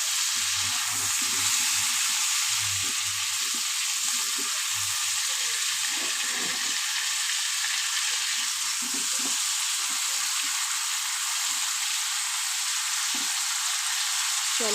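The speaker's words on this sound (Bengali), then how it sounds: "এবার একটু আমি হালকা ভেজে নেব" Light frying in a pan after turmeric powder is added, while cooking a pumpkin fish curry; a dense, steady sizzle plays throughout with low stirring bumps underneath.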